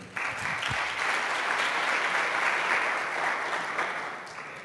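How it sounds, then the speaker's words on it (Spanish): An audience at a talk breaks into a strong round of applause for a speaker, dense steady clapping that fills the room and tapers slightly at the end. "le vamos a dejarle un fuerte aplauso"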